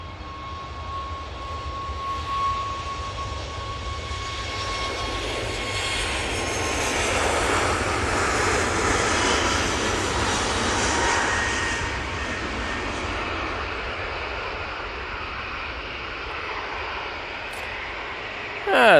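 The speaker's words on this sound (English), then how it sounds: "And that's the Ryanair, or Malta Air, you know where I'm coming from with that one. It's off to fake Brussels. They're using the 737 MAX 8 for that." A Ryanair (Malta Air) Boeing 737 MAX 8 jet at Manchester Airport roars steadily as it passes, its engine noise swelling to a broad peak midway and then easing off, with a faint whine running beneath.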